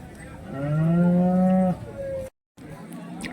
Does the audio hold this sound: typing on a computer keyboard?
no